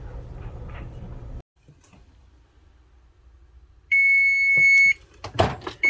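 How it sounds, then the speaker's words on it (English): A kitchen timer sounds during bread baking, a single steady high electronic beep lasting about a second, loud and close, followed by brief handling clatter after quiet. "So our timer just went off."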